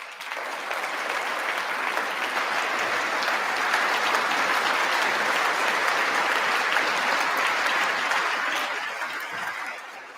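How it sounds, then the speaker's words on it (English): Sustained applause at the State of the Union address, a dense crowd clapping that swells and holds loud for several seconds before easing off. "I'm dismayed that he's getting so many claps from the Republican side of the aisle"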